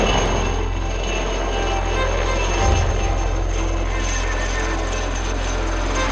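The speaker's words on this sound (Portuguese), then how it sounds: "Helicóptero do incêndio," Firefighting helicopter passes overhead during a boat trip at sea, a heavy continuous rumbling roar that swells slightly midway, with people talking faintly under it.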